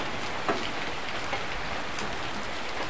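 Rain falling steadily outdoors, a continuous even hiss of drops on surfaces with a couple of faint knocks, fairly quiet and heard alone.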